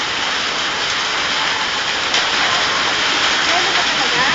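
Hail pelts a roof in Novaliches with a dense, loud, even roar of impacts that holds steady throughout, while people talk underneath.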